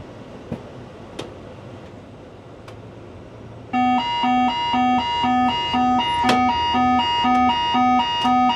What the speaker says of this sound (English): we get this config wingtips warning. It did not like it, very loud oral warning as well